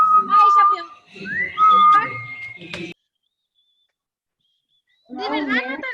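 A person attempting to whistle, producing short wavering whistled tones mixed with breathy, voiced sounds, close and fairly loud, then a pause of silence before more breathy voice sounds.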